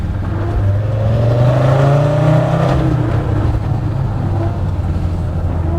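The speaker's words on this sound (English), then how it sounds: "Just hear that exhaust one more time." A tuned Land Rover Defender 90 Td5 diesel engine with a hybrid turbo revs up loudly with a rising pitch, then settles into a steady deep rumble and continuous exhaust drone.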